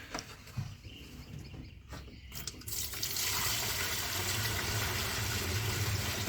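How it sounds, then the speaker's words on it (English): E85 fuel pumped into a fuel jug at a gas station, a soft rustle giving way to a steady, close rushing pour of liquid that holds to the end. "Oh yeah, it's that sweet, sweet pump E85, baby."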